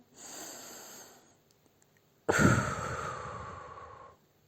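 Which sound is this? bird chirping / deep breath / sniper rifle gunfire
deep breath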